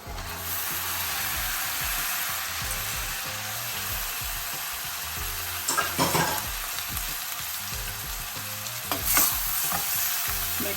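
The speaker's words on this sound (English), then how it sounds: "This is done on high flame because we want to braise the mutton pieces, brown them." Mutton pieces browning on a high flame with cooked onions and garlic, a steady close sizzle with a few louder stirring scrapes, no talk.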